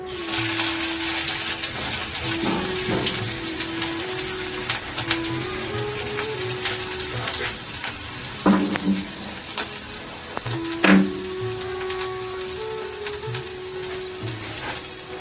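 Four crushed garlic cloves and green and ripe chillies go into hot oil for shim paturi, giving a loud, continuous sizzling hiss with a few sharper pops and clinks along the way.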